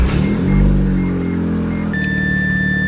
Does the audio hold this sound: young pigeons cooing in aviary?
no